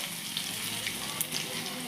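Curry leaves and spices crackle in hot oil during a tempering for Khandeshi dal batti, a steady close sizzle with small sharp pops scattered through it.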